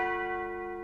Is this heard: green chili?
no